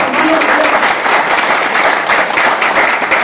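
Crowd applause at a business-plan seminar, loud sustained clapping with a rhythmic, slightly pulsing texture across the whole stretch.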